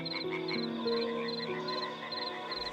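Tree frogs croak by a pond at night, repeated rhythmic chirping calls from several frogs overlapping at moderate distance, steady and continuous.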